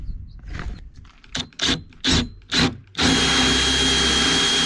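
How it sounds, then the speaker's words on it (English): Power drill boring holes in an overland truck canopy panel through a template, four short separate bursts followed by a long continuous loud drilling run, close up. "we're just going to drill out those two spots right there"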